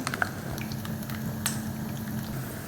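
Garlic and ginger fry in a pan for a mixed vegetable and bitter gourd pickle, giving a soft, continuous bubbling crackle with scattered small pops at an even, low level.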